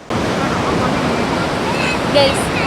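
Steady roar of surf breaking nearby on Kovalam Beach, Thiruvananthapuram, Kerala, in late afternoon, with wind buffeting the microphone and a brief faint voice near the end.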